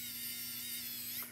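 Cordless electric screwdriver running at high torque, a faint, steady high-pitched motor whir lasting just over a second with no talk.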